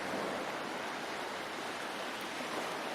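A calm sea washes in gentle waves near Karainagar (Kovilan Point) lighthouse, a continuous soft roar with no distinct breaks and no one speaking.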